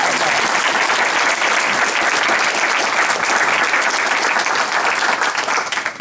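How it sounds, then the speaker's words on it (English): An audience at an MLK community honors event applauds steadily for several seconds, a dense, close wash of clapping that tapers off slightly at the end with no talk over it. "Can we get another round of applause for those two?"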